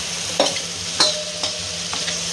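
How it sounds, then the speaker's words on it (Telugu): A spoon stirs tomato curry with red chili powder in a sizzling pan, producing loud knocks and scrapes every half second or so over a continuous frying hiss, close and without speech. "కారం పొడి వేసి దీన్ని బాగా కలుపుకోవాలి"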